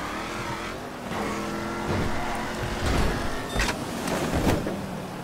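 A vehicle drives in the video game GTA 5 Online, its engine humming at moderate loudness with shifting revs and a few sharp knocks and bumps along the way.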